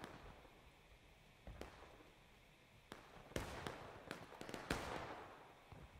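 Artillery cannon fire in a large-scale online Civil War battle game during a Pickett's Charge event: a string of sharp booming blasts, a few isolated then several clustered near the end, over a low ambient rumble with no talk.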